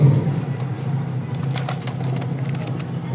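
Pigeons in a loft coo softly and repeatedly, a low throaty murmur close by, joined by brief flutters and faint higher chirps.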